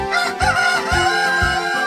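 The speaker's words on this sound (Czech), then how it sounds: "slyším galského kohouta" A cartoon rooster crows loudly and close by, with a bright, drawn-out call over steady background music.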